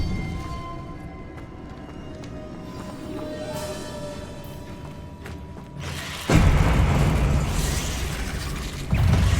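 Explosive spells go off in Hogwarts Legacy: after a stretch of low ambient rumble and small mechanical clicks, a heavy blast bursts in loud and sustained, then a second boom lands near the end.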